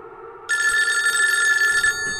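A red telephone rings with a bright, close electronic bell tone that starts abruptly and sustains for over a second before cutting off, alone without speech.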